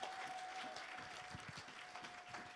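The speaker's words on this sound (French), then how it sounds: "Ce matin, est-ce qu'on peut applaudir Dieu?" Congregation clapping in praise during a French-language church service, a steady moderate wash of applause filling the room with a faint sustained tone underneath.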